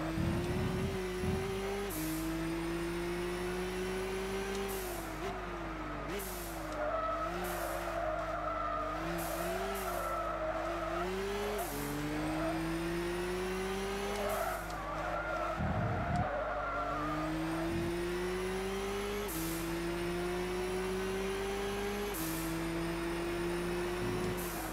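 A race car in Gran Turismo 6 drives continuously on a world circuit, its engine droning loudly and rising and dropping in pitch through repeated gear shifts, with intermittent tire squeal throughout.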